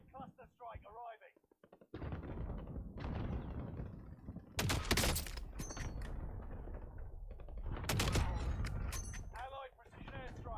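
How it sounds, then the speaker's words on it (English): Allied cluster strike in a video game, with dense, loud bursts of explosions and rapid impacts rolling on for several seconds, mixed with game voice announcements. "Allied cluster strike arriving."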